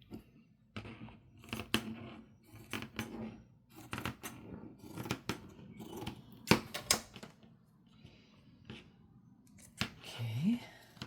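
Fabric scissors snip paper for a pink junk journal, with repeated short crisp cuts in irregular bursts close by, mixed with soft rustling and occasional quiet speech.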